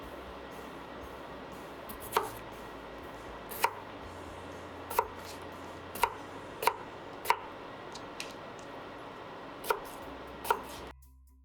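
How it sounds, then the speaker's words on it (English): A knife cuts small potatoes into cubes on a board, giving about ten crisp, evenly spaced chops over quiet room tone, close by and with no talking. "I've got 6 small potatoes here that I'm just going to cube up"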